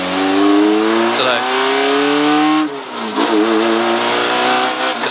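A rally car's engine roars close by at a stages rally at Castle Combe, revving up and down with a rough, raspy exhaust note that rises, drops and picks up again.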